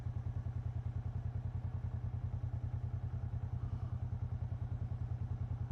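Kawasaki Vulcan 650S motorcycle riding, a steady rapid thumping twin-cylinder engine pulse with rumble and wind, continuous and close throughout, no talk.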